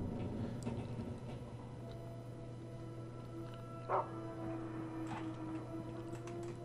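Dog in the video game Rule of Rose making a few faint, sparse yips and a short bark against a steady low mechanical hum, quiet and somewhat distant, with no talking.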